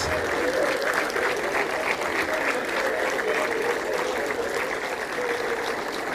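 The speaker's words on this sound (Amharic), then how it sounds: "አሁንም ከፍ ያለ ጭብጨባ።" A large crowd applauds steadily for the artist Selamawit Desta, a sustained, even roar of many hands clapping with no breaks, loud and continuous throughout.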